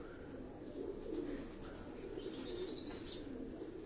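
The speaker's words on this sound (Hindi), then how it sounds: "ये कबूतर सारे बड़े आराम से बैठे हुए हैं।" Pigeons cooing and shuffling with occasional wing flaps inside a large rooftop cage in Karachi, a soft steady murmur of low coos at moderate distance, no voices.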